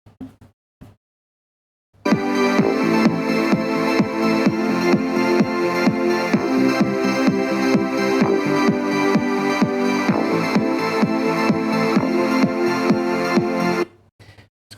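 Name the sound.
Google Home Mini smart speaker playing audio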